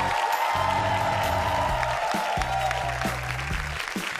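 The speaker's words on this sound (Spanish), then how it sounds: "Este aplauso y esta ovación es para ti." An audience applauds a group at a Got Talent Chile 2024 semifinal. The dense steady clapping runs under a sustained musical tone and low chords.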